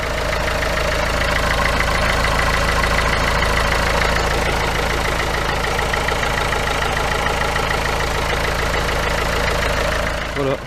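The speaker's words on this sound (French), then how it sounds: "Je vais faire tourner le moteur." A Dacia Logan engine idles steadily just after an oil change, a continuous close mechanical drone with a faint knocking texture that runs unchanged for about ten seconds and stops abruptly at the end.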